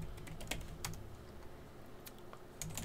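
Keys clatter on a computer keyboard as a command is entered into a Cisco Nexus 9000v switch console, quick irregular bursts of close, fairly quiet keystrokes with short pauses between them.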